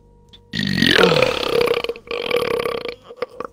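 A loud, drawn-out burp from a person during a Rainbow Six Siege gaming session, one long eructation followed by a second rougher stretch and a few short trailing bits, close up.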